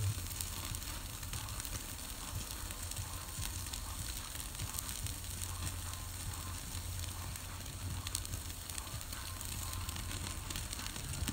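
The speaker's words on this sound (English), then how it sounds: "Just flames. Let it sear," Porterhouse steak searing directly over open flames, a constant dense sizzle and crackle of fire that holds steady and fairly soft throughout, with no talking.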